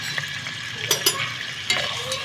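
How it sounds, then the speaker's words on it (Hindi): Onions sizzle steadily in a hot pan while a utensil stirs them, giving a few sharp scrapes over the constant frying hiss. "ये इस तरह इसकी अच्छी तरीके से ये भुनाई कर लेंगे"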